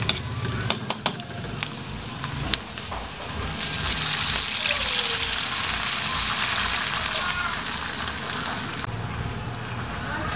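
Water added to a pan of softened ingredients while cooking pancit canton, a steady gushing, sizzling hiss after a few sharp knocks of utensils, continuing loud and even for several seconds.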